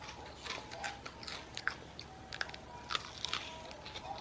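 Several crisp crunchy bites into a walnut-shaped pastry filled with red bean paste up close, sharp crackles spaced irregularly, followed by quieter chewing sounds.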